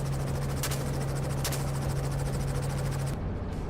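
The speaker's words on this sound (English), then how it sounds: "And helicopters became the unavoidable choice." A helicopter used for wild boar hunting flies with a steady, loud engine and rotor drone and a constant low hum throughout, ending abruptly.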